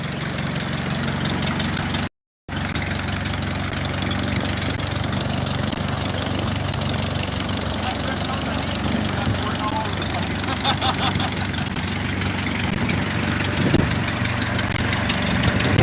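The piston engine of a 1934 Pietenpol airplane idles on its first run of the year with a steady, throbbing rumble close by, a brief dropout early on, and voices faintly over it.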